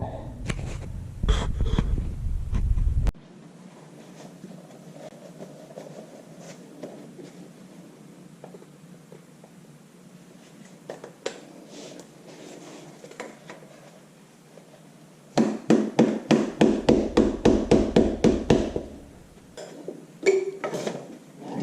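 A 9/16 inch wrench works bolts loose on the clutch housing plates of a Farmall Super MTA tractor, giving scattered metallic clinks and then a quick run of rhythmic ratcheting clicks close by, with no talking.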